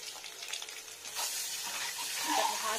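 Eggs fry on very low heat in a pan with turmeric, giving a soft, steady sizzle with occasional stirring and light scraping, close and moderately quiet, with no talking.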